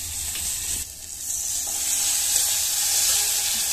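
Garlic and brinjal fry in hot oil for Tamil kara kuzhambu, a bright, continuous close sizzle that swells slightly after a brief dip, with faint stirring and no talk.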